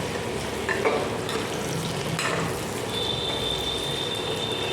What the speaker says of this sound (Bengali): একটু চিকেনটা ভাজা ভাজা হোক